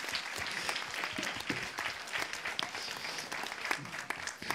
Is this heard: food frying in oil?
no